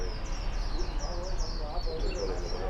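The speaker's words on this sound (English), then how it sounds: "Beautiful birds." Caged songbirds chirp in a busy Hong Kong dim sum tea house, with a run of thin, high tweets repeating over steady crowd chatter and clatter throughout.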